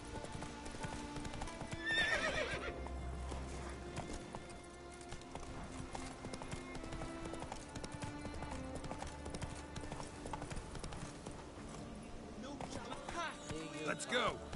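Roach, the horse in The Witcher video game, gallops in a steady, rapid clip-clop of hooves with an occasional whinny, heard over continuous game ambience and faint voices.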